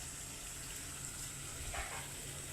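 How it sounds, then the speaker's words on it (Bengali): Rohu fish curry with potatoes cooking in a pan, giving a faint, steady sizzle and hiss that continues throughout, with a slight bubbling rise near the end. "তরকারি রাঁধছি রুই মাছ দিয়া"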